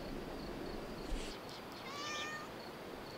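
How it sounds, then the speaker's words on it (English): A cat meows outdoors at night in Lajes do Pico in the Azores, one faint, drawn-out call over a steady hiss of background noise. "Look at the cat, you guys."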